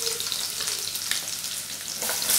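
Onions sizzle steadily in a pan for street-style veg chowmein, a dense, continuous frying hiss that stays close and loud throughout, with no voices.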